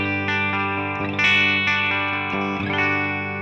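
Electric guitar played through a Tonex pedal on the top boost channel with a Custom 90 speaker model, lowest gain, ringing chords and picked notes with a bright, slightly driven tone and lingering sustain.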